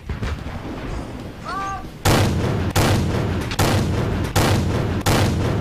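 Tank cannon shots from an M5 Stuart in World of Tanks: five loud, booming shots at a steady rhythm of roughly one every 0.7 seconds, after a brief quieter stretch with game sounds.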